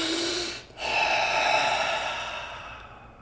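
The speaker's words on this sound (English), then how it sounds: "you're gonna take 5 deep breaths" A person takes a deep breath, a long airy inhale with a short pause, then a slow audible exhale trailing off, close and clear with no talking.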